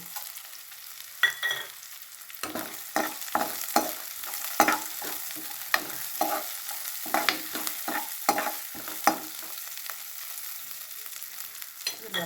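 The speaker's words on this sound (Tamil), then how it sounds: "வெங்காயம் கொஞ்சம் நல்லா வதம்பட்டோம் இதில் ஒரு பத்து கிராம் பாசி பருப்பு" Onions and moong dal frying in a pan, a soft sizzle under repeated sharp spatula scrapes and taps against the metal, irregular and close, with no talking.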